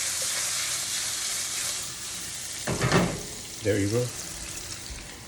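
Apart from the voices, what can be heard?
goat stew ingredients sautéing in oil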